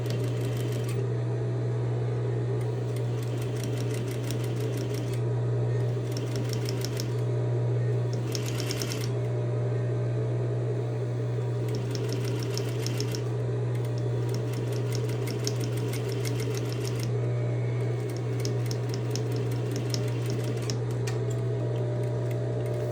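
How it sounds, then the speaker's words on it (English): A sewing machine stitches down the edge of a fabric fold in quick repeated bursts of rapid ticking separated by short pauses, over a steady low hum, close and moderately quiet with no talk. "I'm going to go ahead and again stitch down at the edge of this fold with my fabric out of the way"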